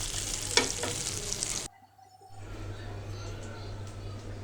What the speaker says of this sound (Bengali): জালটা একটু কমিয়ে দেবো, মাছটা ভাজা হয়ে যাবে তখন।